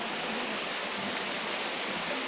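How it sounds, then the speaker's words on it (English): Steady, soft trickle of a small garden waterfall, an even broadband wash of falling water with no voices, continuous throughout. "the waterfall we can hear trickling in the background"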